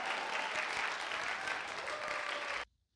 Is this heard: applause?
yes